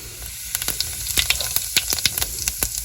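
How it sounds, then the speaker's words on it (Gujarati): Cumin seeds hit hot oil in a village-style kitchen, crackling in quick sharp pops over a soft steady sizzle, close and irregular, with no talking. "તો હવે આપણે આ નાખી દઈએ છીએ જીરો"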